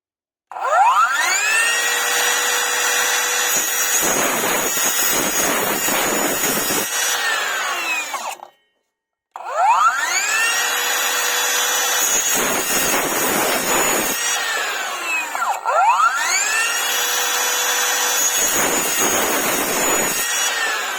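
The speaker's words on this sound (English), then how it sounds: "I've changed the disc to Bosch for cutting aluminium. Let's test it on this square profile." A Parkside Performance 40V cordless circular saw fitted with a Bosch aluminium-cutting disc slices through a square aluminium profile in three loud, close passes, each a high metallic scream with a brief pause between cuts.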